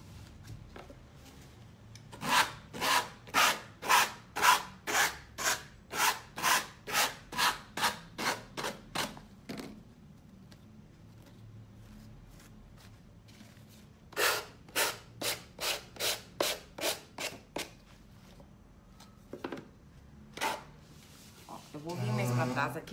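Sandpaper rubs an MDF jewelry box up close in quick, rhythmic strokes. A long run of strokes comes first, then a pause, then a second run, then scattered strokes.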